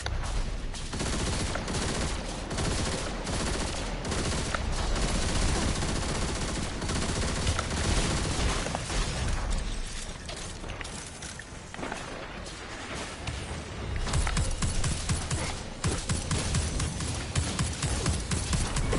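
Gunfire in the video game Destiny 2 rattles in dense, rapid volleys of loud, punchy shots that briefly thin out midway before resuming, with a voice occasionally heard beneath.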